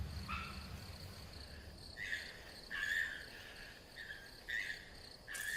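Buzzing cicada calls pulse in short bursts over a quiet background on a South Korean mountain, several rasping trills repeating irregularly at moderate distance.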